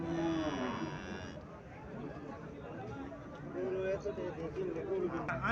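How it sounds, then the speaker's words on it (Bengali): A Haryana breed dairy cow at a cattle market lows in a drawn-out moo at the start, followed by a shorter call later, amid people chattering nearby. "এখানে একটা গাভী দেখা যাইতেছে"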